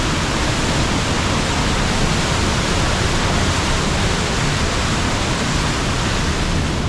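A powerful waterfall on a Scottish coastal route roars steadily and close by, a dense, unbroken rush of falling water filling the whole clip with no voices.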